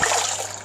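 Water poured from a jug into a pan of dried pasta, a short bright splashing gush that runs briefly and ends with a final slosh.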